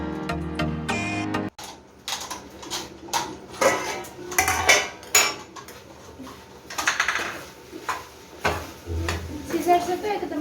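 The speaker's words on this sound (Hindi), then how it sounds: "ये तोरी छील कर काट लूँगी।" Ridge gourd is peeled and cut in a home kitchen, with a run of close clicks, scrapes and knocks of blade and utensils against a board and dishes, irregular and crisp, while someone talks between the sounds.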